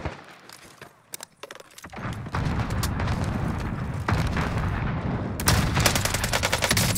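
Light machine gun fire in a video game, the Finn LMG: after a few scattered pops, sustained automatic bursts roll on loudly and densely, intensifying toward the end.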